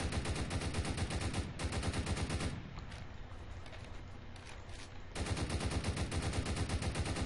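Rapid bursts of gunfire spray bullets in the Roblox Prison Life video game, a dense automatic rattle that runs loud, eases into a quieter stretch in the middle, then comes back at full volume. No one talks.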